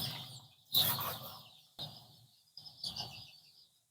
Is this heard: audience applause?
no